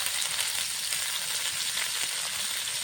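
Cauliflower sizzles steadily in hot oil for a Bengali rui fish curry, a loud continuous hiss and crackle with no pauses and no voices.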